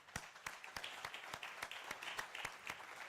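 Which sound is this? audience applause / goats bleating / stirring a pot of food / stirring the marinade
audience applause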